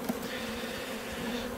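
Honey bees buzzing around an opened hive short of food, a steady close drone of many wings humming continuously at a moderate level, with no voices.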